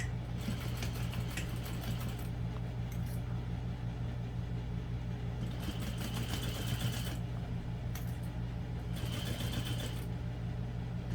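A sewing machine stitches a bag seam with a short stitch length, its steady mechanical whir running close and continuous, with bursts of faster, brighter needle chatter coming and going throughout.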